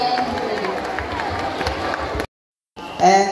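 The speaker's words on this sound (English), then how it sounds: "a round of applause" A crowd applauds and cheers at a safari park bird show, a dense, continuous wash of clapping that cuts off suddenly, followed by a voice speaking.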